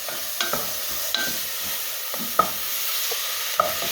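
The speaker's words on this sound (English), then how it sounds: "this is still going to saute." Meatballs seasoned with salt, teriyaki and Worcestershire sauce sauté in a pan, giving a steady soft sizzle broken by a few light clicks and scrapes of stirring.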